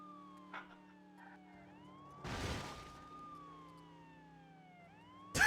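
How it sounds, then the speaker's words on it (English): A police car siren in the video game True Crime: New York City wails with a steady rising and falling tone, fairly quiet, with a brief whoosh of noise in the middle and a louder burst at the end. "I'll put the siren on for you guys."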